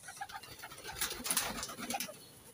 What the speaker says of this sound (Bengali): দেখুন পায়রাগুলো বেরোচ্ছে দেখুন